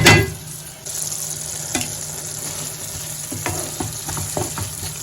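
Egg curry cooks in a covered pan, giving a steady low sizzle and bubbling simmer with a few soft clinks and stirring knocks near the end, close and moderately loud with no voices.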